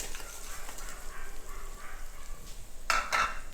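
Jaggery tipped into hot oil and stirred for a mango pickle: a soft, steady sizzle with light scraping, ending in a brief louder clatter near the end.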